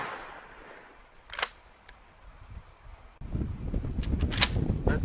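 Several sharp shotgun blasts firing wax slugs at jugs set out around 245 yards away, each report a single crisp crack standing out over steady outdoor background noise, spaced a few seconds apart.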